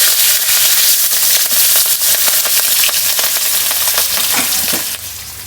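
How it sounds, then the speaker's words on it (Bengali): Loud, crackling sizzle of fish frying in hot oil, continuous and close, with sharp pops spattering throughout. "দেখো আমি মাছ ভাজছি"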